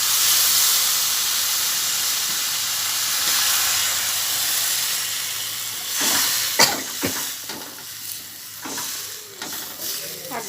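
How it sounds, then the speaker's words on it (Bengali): Water hits a hot cooking pan in a home kitchen, setting off a loud broad hiss of sizzling steam that slowly settles, then scattered clinks and stirring sounds follow as the bubbling fades. "এবার জল দিয়ে দেওয়া হচ্ছে।"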